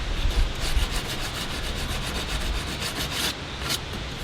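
Painted wooden furniture edges being hand-sanded with 100 grit sandpaper, a repeated rasping scrub in steady back-and-forth strokes, close and moderately quiet, with no talking.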